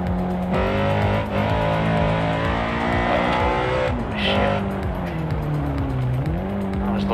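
A racing-game car engine drones loudly and steadily over a gravel road, its revs rising and falling, with tire scrabble mixed in. A voice is faintly present.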